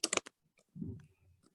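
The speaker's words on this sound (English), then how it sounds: "I'm just typing the link into my computer here" Quick clicks from a computer keyboard at a desk, a brief burst of several keystrokes at the start and a few scattered taps after it, soft and close, with a low murmur in between.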